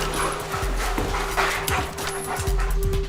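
A police tracking dog searching a house during a raid, giving repeated close whines, yips and panting over a loud steady background.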